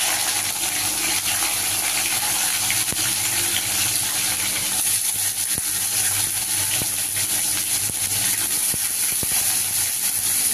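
Capsicum sizzles in hot oil with whole garam masala, a steady close frying hiss that holds throughout with a few small pops and no talking.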